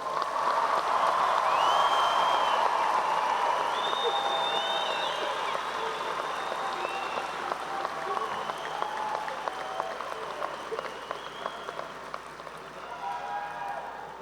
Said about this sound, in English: Time for applause.